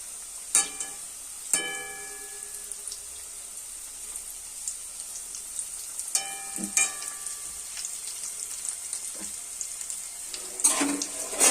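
Vegetable chops, four or five at a time, frying in hot oil: a steady soft sizzle with a few sharp crackling bursts and clinks as pieces go in, fairly quiet with no talking.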